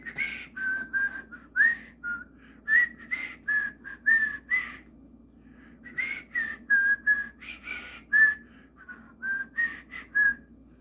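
A bright, melodic whistled tune from Disney's Robin Hood plays in two phrases separated by a short pause, with a low hum underneath and no talking.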